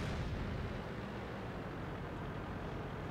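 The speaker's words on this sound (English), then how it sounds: "Here comes the artillery. 2 of them." Artillery fire in the tank battle game World of Tanks, a steady low rumbling barrage of distant booms that rolls on continuously for a few seconds with no voices over it.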